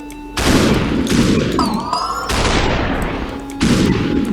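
Loud gunfire bursts from the SuperHot video game, several heavy shots with booming tails and a brief metallic whine between them, dense and continuous with no voices.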